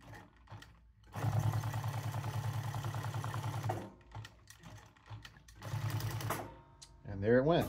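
Sewing machine stitching a leather patch onto a hat, two runs of rapid mechanical chattering separated by a pause, with a voice speaking at times.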